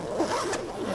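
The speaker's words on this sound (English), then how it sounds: "And then I go ahead and kind of fold it back up, zip it." A zipper closes a garment bag in a quick, close, rasping pull lasting about a second.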